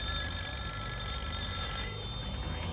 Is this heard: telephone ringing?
yes